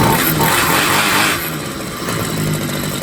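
A gas string trimmer with a clutch, its small engine held at a loud, buzzing high rev that eases off slightly partway through and then settles, with no talking.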